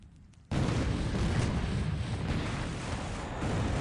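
Naval bombardment in the wargame War in the Pacific at Pago: a sudden loud explosive burst, then a sustained roaring barrage of booms and rumbling blasts that stays dense and close to the end.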